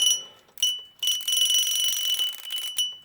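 A Westclox Pixie alarm clock bell rings loudly in bright metallic bursts, several short stops then a sustained ringing stretch, close and alone.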